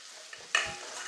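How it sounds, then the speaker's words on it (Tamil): Chopped onion, green chilli and curry leaves sautéing in hot oil, with a brief stirring clatter followed by a close, steady sizzle, no talking. "பொடியாக நறுக்குன்னு ஒரு பெரிய வெங்காயம் ஒரு பச்சை மிளகாய் சிறிதளவு கருவேப்பிலை நல்லா வதக்கி விட்டுக்கலாம்"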